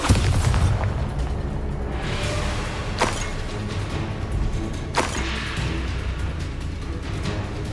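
Spell explosions from the Hogwarts Legacy video game burst out as sharp booms at intervals, each followed by a rushing decay over a busy backdrop of game combat noise.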